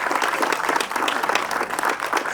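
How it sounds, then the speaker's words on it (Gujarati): An audience claps loudly and continuously at a Gujarati film premiere in Ahmedabad, a dense close wash of applause sustained throughout with a faint voice underneath. "આવો શ્રદ્ધા માટે પણ તાળીઓ પાડી લઈએ."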